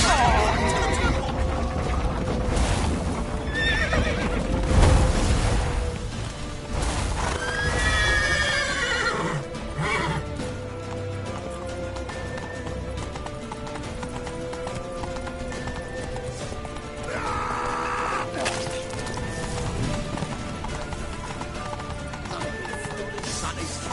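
Horses in The Witcher 3 video game neighing and whinnying several times over steady galloping hoofbeats, along with game music and shouting voices throughout.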